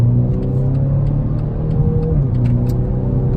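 A 2019 BMW X2 M35i pulls under acceleration from inside the cabin, a steady loud engine drone whose pitch climbs and then dips briefly as a gear changes, with road rumble underneath and no talking.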